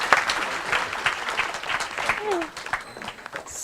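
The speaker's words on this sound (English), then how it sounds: "A big round of applause for him." Applause from an audience at a formal intergenerational dialogue event, a steady mid-level patter of clapping lasting a few seconds with faint background voices.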